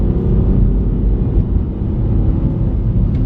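A 2024 Kia Picanto's small engine labours up a hill, a steady low drone with road rumble throughout and no talking.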